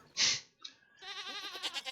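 Goat bleating in a farming video game, a loud nasal bleat followed by a shorter call and a longer wavering bleat, close and clear with no talk.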